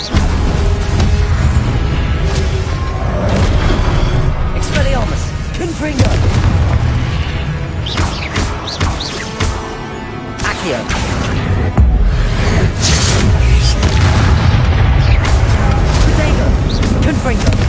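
Confringo fire-spell blasts in Hogwarts Legacy, with loud booming bursts and explosive impacts repeating amid busy combat, a voice calling out spells between the blasts.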